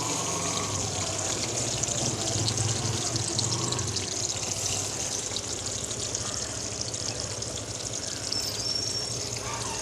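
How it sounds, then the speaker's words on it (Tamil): Slices of bitter gourd go into boiling frying oil in a village kitchen, giving a continuous loud hissing sizzle close to the pan with no clear talk over it. "எண்ணெய் வந்து கொதிச்சிட்டுது இப்போ நாங்கள் பாவக்காயை போடுவோம்"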